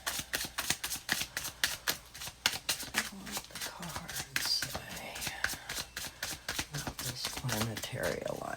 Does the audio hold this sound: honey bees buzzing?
no